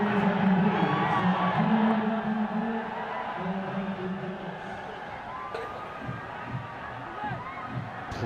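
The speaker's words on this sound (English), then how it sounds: "Plundered around the ground and the crowd were loving every second of it" A stadium crowd at an NPL cricket match between Janakpur Bolts and Karnali Yaks cheers and whoops loudly, with wailing, siren-like noisemakers in the stands, then the roar eases into a busier hubbub.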